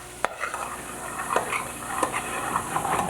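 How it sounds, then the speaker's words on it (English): Grits cook in melted butter in a pan, giving a soft continuous sizzle broken by several sharp spoon taps and scrapes against the pan as they are stirred. "Now I want to cook these grits in the butter"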